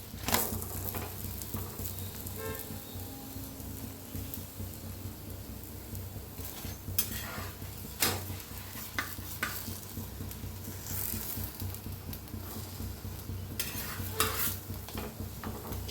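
Aloo paratha fries on a pan with a steady soft sizzle, broken by occasional scraping and tapping of a spatula against the pan, close and continuous without talk.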